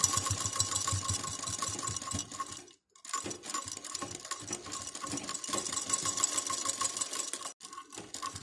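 A sewing machine stitches a lehenga skirt with frills in a steady, fast mechanical whir, briefly stopping about a third of the way through and again near the end before resuming.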